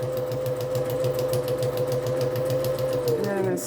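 A sewing machine stitches a straight line down a paper book page, its needle pulsing in a fast, even rhythm close to the microphone before slowing and stopping near the end.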